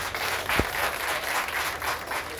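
Audience applause at the official opening of the BK Création boutique in Angré Nouveau CHU: an even wash of many hands clapping at moderate distance, with one brief low thump early on.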